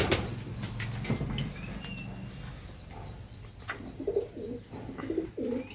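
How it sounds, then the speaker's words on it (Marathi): Pigeons in a loft coo in low, throaty repeated calls, mostly later on, over a quiet background with scattered soft rustles and faint chirps, without talk. "टॉप क्वालिटीचे कबूतर आहेत"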